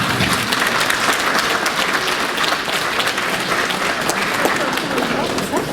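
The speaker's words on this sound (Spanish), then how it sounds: "al cual recibimos con fuertes palmas" An audience at a law diploma lecture session applauds loudly to welcome the second speaker. Dense, continuous clapping from many people fills the room at an even level for several seconds.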